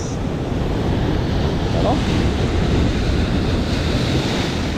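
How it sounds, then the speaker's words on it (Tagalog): Strong ocean waves surge and crash continuously close by, churned by gusting wind buffeting the microphone, with a brief voice heard over the roar. "Mga master, ang alon. Lakas."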